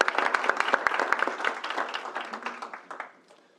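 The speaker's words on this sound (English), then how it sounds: "Let's give them one more round of applause." Audience at a University of Nebraska Board of Regents meeting claps steadily, a dense patter of many hands at moderate volume that slowly thins and fades out.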